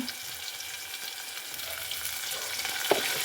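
Onions sauté in a pan for drumstick sambar, a steady soft sizzle and frying crackle with occasional stirring, fairly quiet and continuous with no talking.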